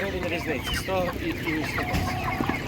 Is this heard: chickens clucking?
yes